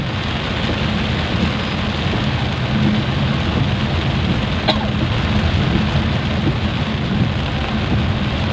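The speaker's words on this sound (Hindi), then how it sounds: "अभी देखिए गुवाहाटी में कितना बारिश दे रहा है" Heavy monsoon rain in Guwahati pours steadily in a dense, loud hiss, with a low rumble beneath and no pause throughout.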